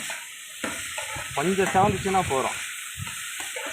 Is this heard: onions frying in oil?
yes